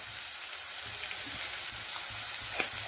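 Sliced onions frying in a pan on the stove, a steady soft sizzle with occasional brief crackles and light stirring scrapes, faint and continuous.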